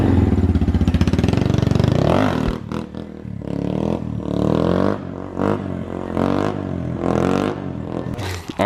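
A Honda Grom motorcycle revs hard, then pulls away through a series of rising throttle bursts and gear changes, a loud, close, buzzy single-cylinder engine with no voices over it.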